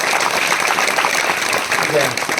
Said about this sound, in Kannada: ನಿಮ್ಮೆಲ್ಲರ ಜೋರಾದ ಚಪ್ಪಾಳೆ ಬರಲಿ